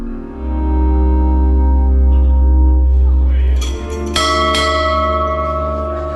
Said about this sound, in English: they ring the bell to call officers to parade in the way the Royal Marines did 2 centuries ago